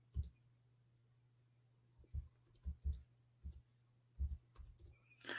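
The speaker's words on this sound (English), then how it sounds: "No, I'm typing in Arabic." Someone types on a computer keyboard in scattered bursts of faint clicks with short pauses between them, over a quiet low hum.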